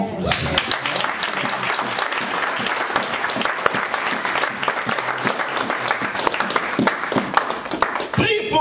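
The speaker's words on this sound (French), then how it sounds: "Acclamons." A church congregation breaks into loud, sustained applause with dense clapping throughout, close and filling the room, with voices mixed in the crowd noise.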